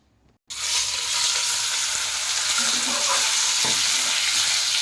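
Pieces of fish sizzle loudly and steadily in hot oil in a pan for a fish curry, starting abruptly after a brief quiet moment and then holding a constant close, bright crackle.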